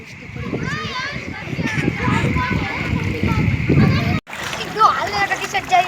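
In a street flooded after heavy rain in Dhrangadhra, water splashes and sloshes in repeated bursts at close range, with children's and other voices chattering throughout.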